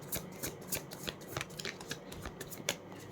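Tarot cards being shuffled by hand, a close series of crisp riffling bursts and flicks in an uneven rhythm, fairly loud with no talking.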